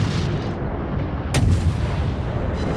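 Guns of the British tier I cruiser Black Swan fire in World of Warships, a heavy, rumbling artillery boom with one sharp crack near the middle, loud and sustained, with no voices.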